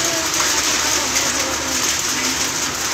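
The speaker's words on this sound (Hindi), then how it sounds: "अब लगातार बारिश पूरे जम्मू कश्मीर में हो रही है और तेज बारिश में हर किसी का गुजरना भी मुश्किल हो रहा है" Heavy rain pouring steadily in Udhampur, Jammu and Kashmir, a dense unbroken hiss that stays loud and even throughout.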